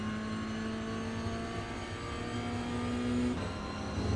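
Toyota GR86 in the iRacing sim on the Indianapolis Road Course, engine note climbing steadily under throttle with a brief dip around a gear change, then pulling again; loud and continuous, no voices.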